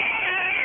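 A voice imitates a cat meowing, giving a short, loud, nasal, strained meow-like yowl.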